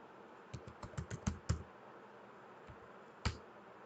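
Keys tapped on a computer keyboard while entering a search term into the Windows search bar, a quick run of about eight clicks followed by a lone keystroke, close and crisp with no talking.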